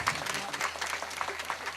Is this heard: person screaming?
no